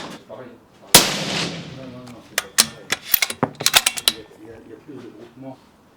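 Sharp rifle shots at an outdoor shooting range during scope sighting-in: one loud close report followed by a rapid cluster of several cracks, with faint talk in the background.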